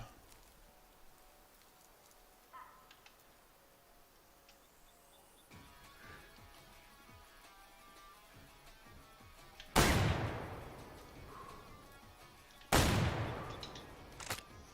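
Two loud hunting-rifle shots ring out in the game Way of the Hunter, a few seconds apart, each with a long rolling echo over a quiet outdoor ambience.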